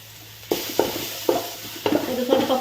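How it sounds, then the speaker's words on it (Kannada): Cumin, chopped ginger, garlic and chilli sizzle in a hot pan, a continuous frying hiss broken by several close stirring knocks and scrapes of a utensil. "ಇದು ಫ್ರೈ ಆಗ್ತಾ ಉಂಟು."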